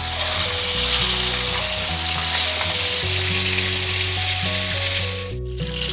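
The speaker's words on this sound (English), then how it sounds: "After oil already heat, put the fish to fry." Fish head frying in hot oil for a fish curry, a steady loud sizzle and crackle that runs continuously with no talking, dipping slightly near the end.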